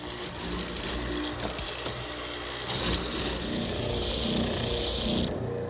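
Mortising machine cutting a slot down a plywood strip, a continuous close mechanical drone and rattle that builds to a harsher, brighter grind near the end before stopping abruptly.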